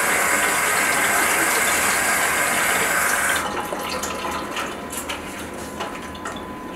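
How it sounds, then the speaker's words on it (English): Tap water runs steadily into a sample bottle close by, a loud rushing stream whose tone dulls partway through as the bottle fills. "And then we'll simply just fill up the bottle."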